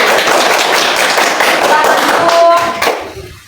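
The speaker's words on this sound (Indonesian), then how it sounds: "kita berikan tepuk tangan dulu untuk kelompok 1" Classroom applause for a student group, a dense burst of many hands clapping together at close range, holding steady before quickly fading out.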